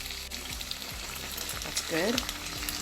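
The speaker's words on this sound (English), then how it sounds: "now I'm adding my special sauce before I go further." Chili pepper flakes, basil and a special sauce frying in a pan for coconut milk jollof rice, a steady close sizzle with scraping stirs; a voice briefly speaks over it.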